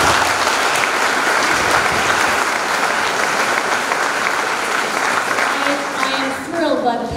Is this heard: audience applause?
yes